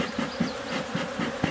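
Agitated honeybees buzz around an opened hive, a dense close swarm hum with individual bees zipping by the ear in brief louder passes.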